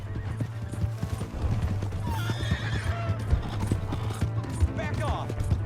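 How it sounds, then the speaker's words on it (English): A horse gallops with rapid, close hoofbeats and gives loud whinnies partway through in Red Dead Redemption 2, over busy game ambience. "Hey, that's my horse!"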